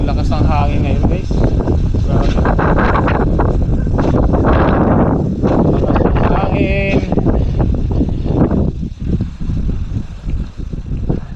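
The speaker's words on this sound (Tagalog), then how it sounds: "ang lakas ng hangin ngayon, guys." Strong wind buffets the microphone outdoors beside parked bikes, a loud continuous roar with people talking through it.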